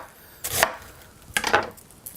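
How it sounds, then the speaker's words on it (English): A knife chops through cabbage into thin slices for a salad, two sharp crunchy cuts spaced about a second apart, close and clear with no talking. "So when I go and chop cabbage into the salad, I'm going to make slightly thinner slices"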